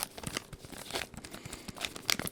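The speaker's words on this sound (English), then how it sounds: "this is a bit of tapping and crinkling as the package as well" A plastic snack package of crackers is crinkled and tapped softly up close in a quiet ASMR setting, with scattered crisp crackles and light taps.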